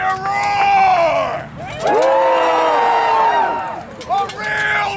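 A Renaissance faire crowd at a full-contact joust roars and cheers in loud surging bursts, with high shouts and screams rising and falling over a few seconds in an open outdoor setting.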